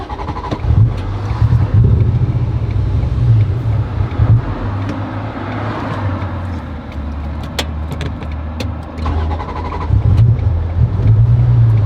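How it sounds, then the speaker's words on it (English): Supercharged Acura NSX engine misfiring badly, a loud, rough, uneven low rumble that stumbles and surges throughout, heard close up. "It's misfiring so bad."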